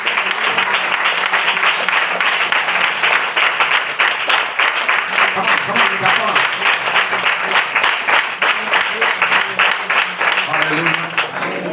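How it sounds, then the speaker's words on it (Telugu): A church congregation claps loudly and steadily for the whole stretch, dense sustained applause from many hands with voices mixed in underneath. "ఎవరికైనా ఈ మాట ఈరోజు అర్థమైతే గట్టిగా చప్పట్లు కొట్టి"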